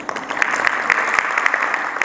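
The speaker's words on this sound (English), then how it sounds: "we can also clap for them as well" An audience claps briefly at a meeting, a short burst of steady, moderately loud hand claps with no voices.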